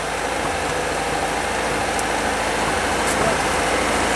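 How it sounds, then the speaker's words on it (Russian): A tractor engine runs steadily throughout, a loud, continuous mid-pitched rumble close by at a construction site by a cellar. "Трактор мешает, выключи."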